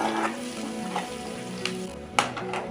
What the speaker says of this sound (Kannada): ಈರುಳ್ಳಿ ಸೇರಿಸ್ಕೊಂಡು ಈರುಳ್ಳಿನೂ ಸ್ವಲ್ಪ ಬಾಡಿಸ್ಕೋಬೇಕು